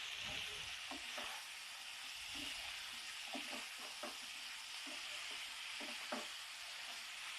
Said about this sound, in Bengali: কিছুক্ষণ কষে নিচ্ছি কুমড়োর সঙ্গে মশলাটাকে